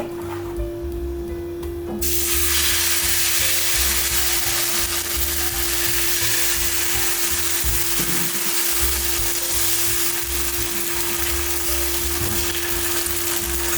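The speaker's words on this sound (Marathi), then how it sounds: "मी आता एक डोसा घालते" Rava and poha dosa batter hits an oiled tawa and erupts into a loud, steady sizzle that stays strong and continuous after a quieter opening couple of seconds.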